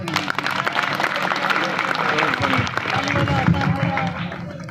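An audience claps at a stage performance, with dense, steady applause close by for several seconds and voices mixed in.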